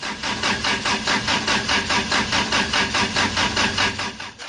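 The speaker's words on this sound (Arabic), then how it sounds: "مع إيقاف المروحة، هل سيتمكن يوهان من تشغيل محركه الخشبي؟" A wood gas engine, run on gas from burning wood, chugs in a fast, even rhythm. The loud, close pulses hold steady throughout.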